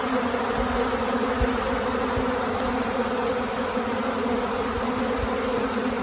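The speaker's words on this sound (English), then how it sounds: "bees from every hive crawled through it" Honey bees swarm around a hive raided by a bear, a thick, unbroken buzz filling the air close by, with no voices.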